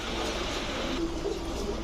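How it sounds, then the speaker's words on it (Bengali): A red-necked female pigeon gives soft, low coos close by, faint against a steady background hum with no talking. "এখন দেখাবো লাল গলা একটা মাদি কবুতর"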